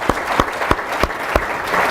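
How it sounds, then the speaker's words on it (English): An audience claps for a high school choir, with a handful of loud, evenly spaced hand claps over a soft spread of scattered applause in a hall. "let's give them a big round of applause"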